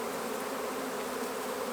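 Feral honeybees at a hollow make a steady, dense buzz that fills the whole stretch. It is close and continuous, with no talking.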